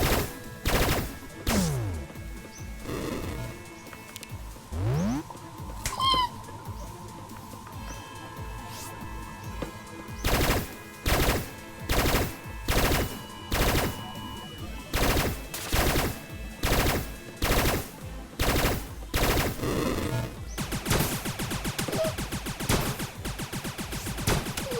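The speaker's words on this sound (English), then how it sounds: "I can't hit it with rockets, so I'm switching to things like the shotgun and rifle." Video game gunfire from a shotgun and rifle, with sharp sporadic blasts early on giving way to a long run of regular, rapid, evenly spaced loud shots amid game effects and tones.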